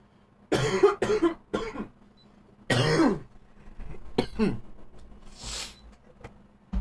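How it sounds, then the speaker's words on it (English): Several harsh, close coughs in quick bursts, with short pauses and throat-clearing between them, fairly loud against a quiet background. "I hate having this cough"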